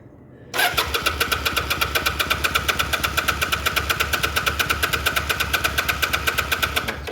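A motorbike engine cranks and catches after a brief quiet moment, then settles into a loud, close, rapid rhythmic idle with an uneven knocking pulse and no voices.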